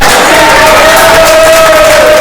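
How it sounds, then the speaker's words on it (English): A crowd at a JnanaShala event cheers and applauds for Maria, a loud, dense burst of clapping mixed with whoops and shouts, steady and close for a couple of seconds. "Give a round of applause to Maria."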